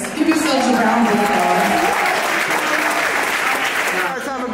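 An audience applauds at a 2024 MLK Day concert: loud, sustained applause fills the room for the whole stretch, with a voice and faint music running beneath it.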